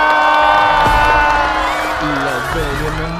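Studio audience at a Chinese stand-up comedy show cheering and applauding as a comedian is introduced, with whoops and a crowd roar under strong music and a voice over the top.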